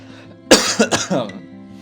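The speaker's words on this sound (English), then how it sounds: "My cough is getting better, I swear," A person coughs in a short burst of three or four harsh, close coughs with a bit of throat clearing, loud against a quiet room.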